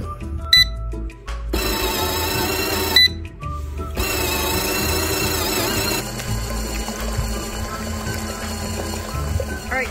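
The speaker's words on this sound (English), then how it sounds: "So the washer's 10-minute timer has gone off," A portable mini washing machine's electronic timer alarm rings in two long sustained bursts of buzzy tones, over steady background noise and faint clattering.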